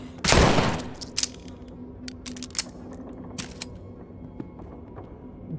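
A loud gunshot opens the scene in the video game Walking Dead: Saints and Sinners, followed by scattered clicks, clinks and small metallic handling sounds at close range, without talk.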